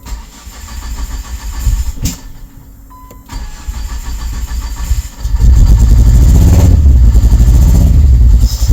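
A Ford XR5 4x4 turbo car engine on a first start attempt, loud cranking and spluttering that catches into a rough, uneven misfiring rumble, close and dominant with the uneven firing clearly audible.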